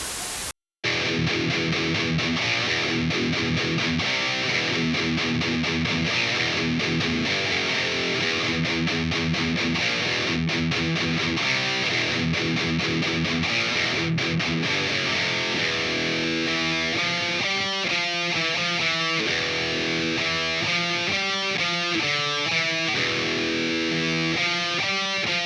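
Electric guitar played through a Line 6 HX Stomp multi-effects unit, a loud distorted, effects-laden tone sustained throughout, shifting into choppy rhythmic chords in the latter part.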